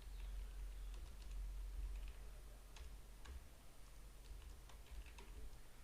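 Keys tapped on a computer keyboard while typing text into a shape in Excel, giving a quiet, irregular run of light clicks over steady background hiss.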